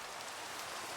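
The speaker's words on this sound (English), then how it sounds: "it is nighttime and raining" Nighttime rain falling in Minecraft, a soft, even hiss of downpour that stays constant and faint for the whole moment, with no voices or other events.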